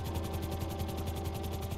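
Helicopter in the video game GTA 5, its steady rotor chop pulsing rapidly over a low engine drone, close and constant throughout with no talk.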